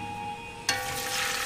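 A large diced onion dropped into a hot pan with bacon, bursting into a loud steady sizzle over a faint electrical hum.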